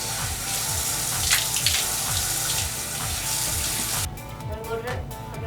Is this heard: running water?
yes